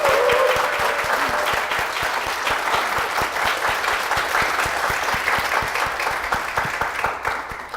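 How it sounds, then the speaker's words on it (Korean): Loud, sustained applause from a church congregation honoring the pastor and church, with dense clapping and some sharp individual claps standing out close by, tapering slightly at the end. "우리 목사님과 교회를 위해서 다시 한번 큰 박수 부탁드리겠습니다"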